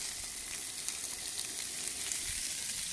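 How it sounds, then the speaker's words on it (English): Hot Italian sausages on a barbecue grill, giving a steady, even sizzle with light crackles throughout and no voices. "And now we're going to take our hot Italian sausages"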